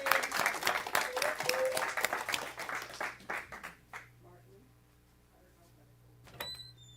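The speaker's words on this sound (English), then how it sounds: "Let's give Mary a really big round of applause" Congregation applause at a Sunday service at the OM Center for Spiritual Living, loud clapping for the first few seconds that tapers off and fades to near quiet, with a few faint bumps and voices afterward.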